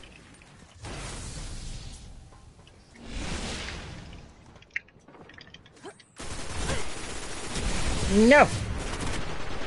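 Gunfire in a video game comes in several noisy bursts separated by short gaps, with a louder stretch near the end, while a player shouts and talks over it.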